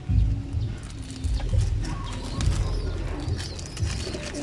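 Young pigeons coo in soft, repeated low pulses close by, overlapping one another in a steady murmur with a few faint chirps.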